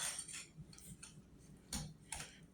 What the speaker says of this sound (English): now I'm going to just mix all this up